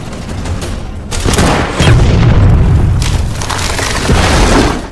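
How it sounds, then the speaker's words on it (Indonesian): Booming blasts and bursts of gunfire from a mortar being shot with a sniper rifle in a war film, several heavy impacts rolling together over about five seconds. "Igora pun menggunakan senapan Scud untuk menembak mortir tepat sebelum pasukan tank Jerman berhasil melewatinya."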